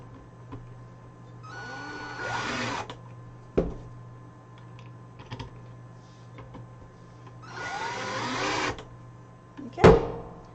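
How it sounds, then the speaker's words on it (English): A power screwdriver drives screws to attach handles on a DIY farmhouse tray, two separate whirring bursts of a few seconds each with quiet handling clicks and knocks between them, close up. "I'll put the screws in now."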